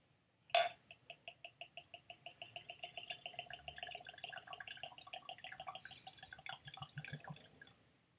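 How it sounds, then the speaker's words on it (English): Gordon & MacPhail Speymalt Macallan 2001 20-year-old Speyside single malt scotch is poured from the bottle into a glass, starting with a sharp clink and then glugging in quick, rhythmic gurgles that slow into a steadier trickle before stopping, close up and without talk. "Now I'm going to pour this."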